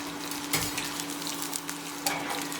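Garlic frying in hot oil in a pan for a tadka, a steady bright sizzle with a couple of stirring scrapes, close and loud, with no voices.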